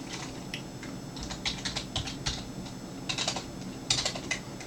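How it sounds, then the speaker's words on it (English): Password typed on a computer keyboard, a close run of quiet, irregular key clicks in short bursts, heard alone. "type in your password,"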